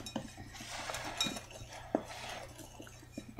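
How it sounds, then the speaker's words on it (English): A spoon stirs flour and other dry ingredients for banana cranberry quick bread in a bowl, with close, light clinks and scrapes against the bowl, quick and irregular, with no talking. "Grab a spoon. Mix them up quickly."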